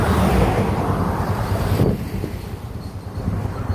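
Steady rushing wind buffets the microphone, loud and roaring for the first couple of seconds, then easing into a softer, gusty whoosh.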